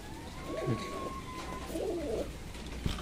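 Fancy pigeons coo in a loft on a rainy day, a few soft rolling coos close by over a steady background hiss.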